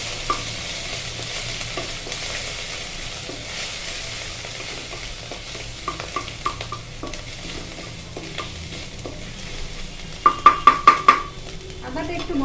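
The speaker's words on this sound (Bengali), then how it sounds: "আদাটা একটু ভাজা ভাজা হোক।" Grated ginger fries in hot oil in a pan alongside green chili, a steady soft sizzle with a spoon scraping and clinking against the pan, plus a quick run of sharp taps near the end.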